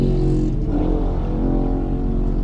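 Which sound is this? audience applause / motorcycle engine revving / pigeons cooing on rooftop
motorcycle engine revving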